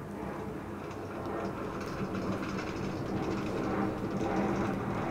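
Riding aboard a Far Rockaway-bound A subway train, a steady rumbling roar of wheels and car body with faint clickety-clack on the rails, building slightly louder as the train gathers speed, continuous and close.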